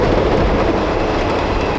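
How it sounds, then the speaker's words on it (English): An Erie Lackawanna passenger train rolls through Hoboken station in New Jersey, a loud, steady rumble of wheels and railcars close by that fills the whole moment without voices. "There's an EO passenger train at Lake Hoboken Station in"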